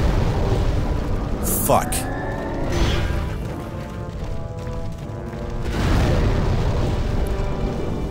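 Explosions in the Demon's Souls video game, heavy booming blasts with a sweeping whoosh, loud and rumbling, under a voice swearing.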